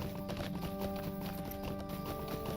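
Horse hooves clip-clop in the Lord of the Rings Online video game, a quick, steady clatter over a constant layer of game music and ambience.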